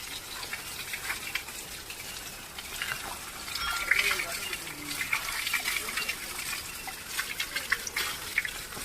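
Water rushes and splashes steadily at Pulluthu Falls near Madurai, a moderately faint, continuous outdoor gush with small fluctuations and a voice faintly audible beneath it.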